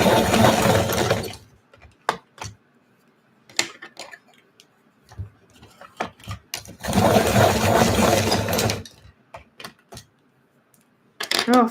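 A watercolor pencil is ground in a sharpener in two loud, rasping bursts, one at the start and one in the middle, with scattered small clicks and taps in the quiet between.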